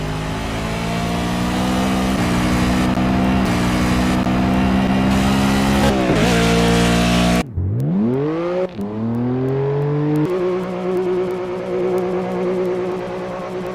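A racing car engine in a racing video game revs loudly and steadily, then shifts gears with rising pitch sweeps, the roar continuing close and constant throughout.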